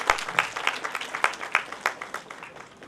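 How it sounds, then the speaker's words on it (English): A modest audience at a talk on gender equity and financial management claps, a thin scatter of distinct hand claps at a fairly even rhythm that thins out toward the end. "a very big round of applause for them"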